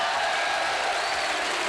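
A stadium crowd of about 8,000 roars as the Leeds rugby league team runs out against Wakefield Trinity in 1989, a steady dense wash of cheering and applause heard from a distance.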